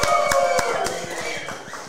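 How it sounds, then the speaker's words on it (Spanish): An audience claps for the group Guayabo Monterrey at a live show, a steady patter of many hands with a tonal background underneath, holding level and then easing slightly toward the end. "El aplauso para nuestros amigos del Guayabo Monterrey."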